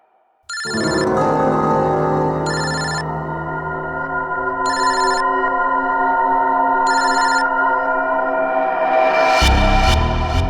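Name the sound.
telephone ringing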